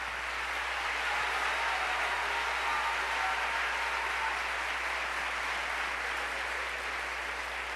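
Church congregation applauding during a sermon, a steady, dense wash of many hands clapping that carries on evenly for several seconds at moderate volume, with no voices over it.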